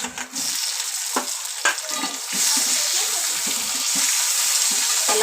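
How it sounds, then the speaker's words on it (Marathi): Sliced tomato sautéing in a pan with onion, garlic and chili for a bitter gourd dish, a steady close sizzle with repeated scraping stirs of a spoon against the pan. "आपण छान त्या कांद्या लसूण मिरचीमध्ये परतून घ्यायचं"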